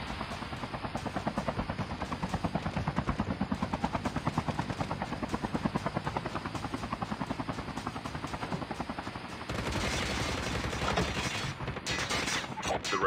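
An airdrop aircraft arrives in a Call of Duty Mobile battle royale match, its steady rotor-like thrumming pulsing loudly and continuously, then giving way to a brighter, noisier rush near the end.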